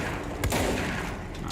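Two heavy blasts from a shotgun in the video game Control, one near the start and one at the end, over a continuous dense game soundscape.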